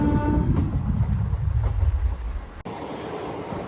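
A MEMU express train pulls away from Nellore station with a loud, rising electric motor whine and rumbling wheels, heard from on board, close and steady before briefly cutting off and settling into a lighter running noise.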